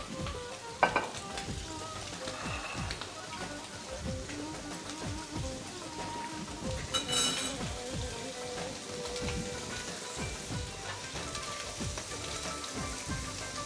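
Shrimp sizzle and crackle steadily in a hot pan, a continuous frying hiss broken by scraping, clattering turns of a utensil, close and fairly loud with no talk.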